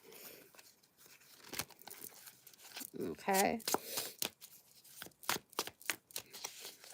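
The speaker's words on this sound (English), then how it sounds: "let me shuffle this deck also for clarifiers" A deck of oracle cards is shuffled by hand at close range during a live card reading, giving bursts of crisp riffling and sharp snaps, with a voice speaking briefly in between.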